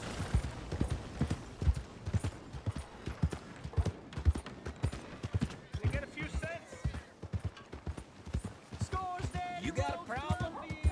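Horse hooves clip-clop steadily in Red Dead Redemption 2, a repeating rhythmic trot under ongoing speech and game sounds, with a few whinny-like tones near the end.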